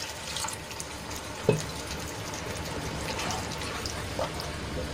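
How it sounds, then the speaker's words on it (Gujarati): Water is poured into a pan of curry gravy, a soft, low, steady wash of liquid with one small clink partway through, fairly quiet and without talk. "તો અહીંયા હું 1 ગ્લાસ જેટલું પાણી એડ કરું છું."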